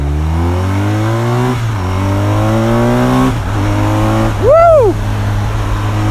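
A 2022 BMW R1250 RT Sport Pack motorcycle, Euro 5 boxer engine, revs up through several gears with rising pitch and brief dips at shifts, loud and close, ending in a sharp throttle blip, with a rider exclaiming briefly.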